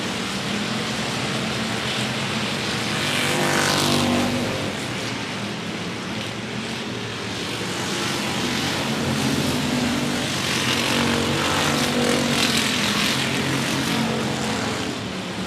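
Race cars circle the 105 Speedway oval in a continuous engine roar heard from a distance. The sound swells and fades in long waves as the pack passes, with no voices.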